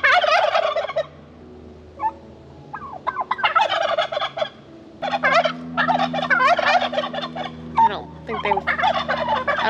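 Black Spanish heritage turkeys gobble in a garden, several loud rattling gobble bursts from close by with short gaps between them.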